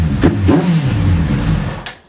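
Japanese motorcycle engine idling as it warms up its oil in a home garage, a steady close rumble with a couple of light revs before it cuts off at the end.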